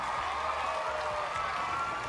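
An audience gives steady, even applause, a continuous fairly faint patter of clapping with no voices standing out.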